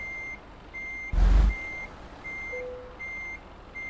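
A truck backing up a trailer in Euro Truck Simulator 2 sounds regular, evenly spaced reversing beeps, with a short loud hiss of air brakes partway through and a faint lower tone near the end.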